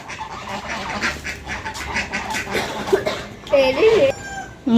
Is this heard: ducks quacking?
yes